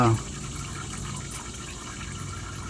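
Engine oil draining from a 2014–2017 RAM 2500 4x4 pickup into a bucket, heard as a steady continuous pour and splash of liquid running for the whole stretch at moderate level.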